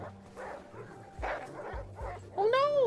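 A dog whimpers and yips in the video game The Red Lantern, a few short soft cries and a rising whine near the end, quiet and close.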